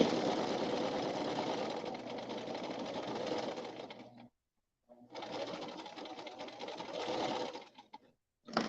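Scrunchies being sewn on a sewing machine, which runs in a steady, rapid mechanical whir, stops briefly, then starts up again for a second run.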